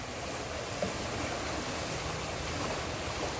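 Floodwater of the Ganges rising at Haridwar after mountain rain, heard as a steady, loud broadband rush of turbulent flowing water filling the whole clip with no voices.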